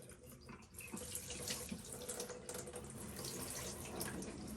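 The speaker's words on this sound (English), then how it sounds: "And then dump out the water in the sink." Water from a NU Aqua reverse osmosis system is poured out into a sink, a steady splashing gush that runs continuously for a few seconds, fairly close but soft.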